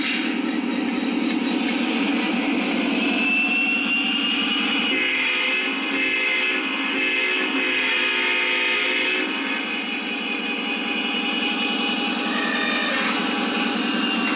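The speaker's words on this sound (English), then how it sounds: "if I reverse the engine the opposite direction, based on the command I set, it should do a signal blow when I go back the other direction" An O gauge model train engine running in reverse gives off a loud, steady humming drone with sustained horn-like tones that hold for the full stretch, dipping slightly midway, with no talking.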